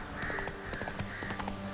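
A horse's hooves clip-clop in The Witcher 3: Wild Hunt video game, a busy, fairly loud run of hoofbeats mixed with game sounds and tones.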